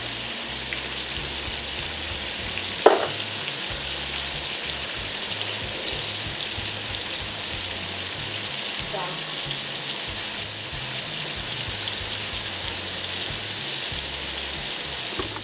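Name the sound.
food sizzling in frying pan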